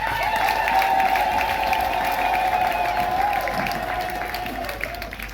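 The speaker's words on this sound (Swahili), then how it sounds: "Makofi mengi kwa." Applause from a Catholic congregation during a homily, a steady, fairly loud sheet of many hands clapping that holds for several seconds and slowly eases, with a sustained tone running underneath.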